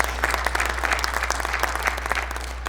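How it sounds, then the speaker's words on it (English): Dense, steady applause from a conference audience at a customer-experience event in Riyadh, many hands clapping at once in a continuous wash with no voices over it. "Big round of applause for you."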